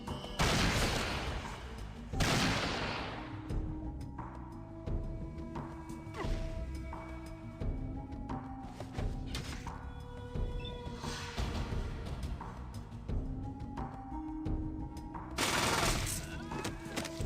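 Combat in Fallout 1 brings loud bursts of gunfire and crashing impacts over a constant musical backdrop, with heavy blasts near the start and again near the end.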